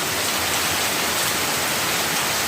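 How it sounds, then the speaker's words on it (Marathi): Heavy monsoon rain pours down in a dense, steady roar of broadband hiss, loud and unbroken throughout. "असा पाऊस साठवायला मला खूप आवडतो कॅमेरामध्ये"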